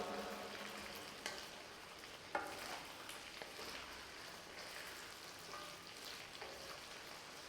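Chicken frying in an iron pan: a faint, continuous crackling sizzle with occasional stirring scrapes and one sharper clink, no talk.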